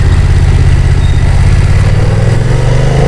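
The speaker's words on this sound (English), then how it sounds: "So the rumbling sound of the engine," A BMW F900XR parallel-twin motorcycle engine rumbles steadily up close, its deep throb holding loud and even throughout, with a slight rise in pitch toward the end.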